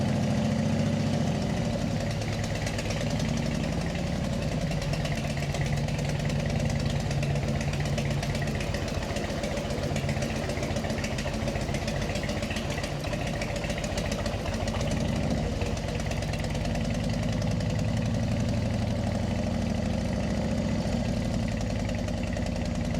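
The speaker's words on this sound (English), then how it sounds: "You can see his motorbike's ready, so we're ready to go." A motorbike engine idling on a ride around the Scottish Island of Arran, a steady close rumble with fine rapid pulsing that holds at constant loudness throughout, no voices.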